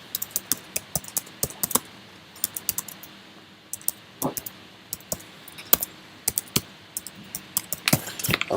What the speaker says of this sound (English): I'm sorry for typing so horrible.